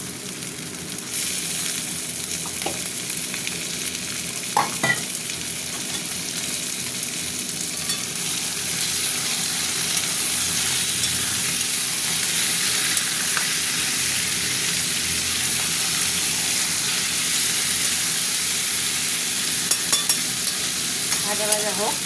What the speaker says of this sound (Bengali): এবার চিকেনগুলো ভাজবো,